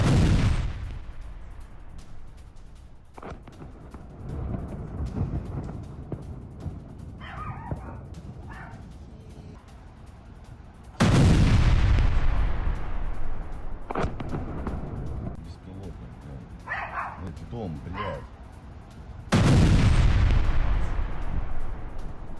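Ukrainian aircraft strike on Rostov, with three heavy booms spaced several seconds apart, each decaying slowly. Dogs bark and whimper nearby in between. No voices.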